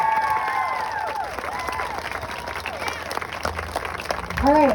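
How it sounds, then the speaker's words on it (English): Applause and some cheering from a fundraiser audience for guest speakers, a crowd clapping under overlapping voices and ringing tones, swelling louder at the end. "let's give them a big round of applause"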